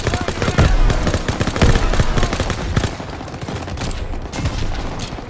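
Rapid bursts of machine-gun and rifle fire from a World War II battle in Call of Duty: WWII, loud and dense for the first few seconds, then thinning into scattered shots.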